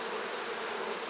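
Honey bees buzz steadily at a hive during a colony split, a dense, even hum that runs unbroken and fairly close throughout, with no voices.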